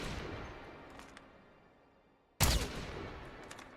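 A single loud, close gunshot bursts out in Call of Duty Mobile battle royale, preceded by fading distant firing and followed by a lingering echoing tail.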